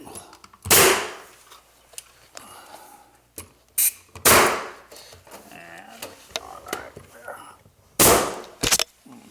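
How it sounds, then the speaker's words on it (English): A nail gun tacking cladding panels to an interior wall fires several sharp, loud, close bangs at irregular intervals, with faint handling noises and a little indistinct talk in between. "Let me grab the nail gun behind me. We'll tack that up."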